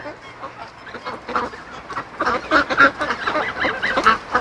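Geese honk repeatedly among ducks in a crowded poultry yard, a busy overlapping chorus of nasal calls that grows louder toward the end, with no talk.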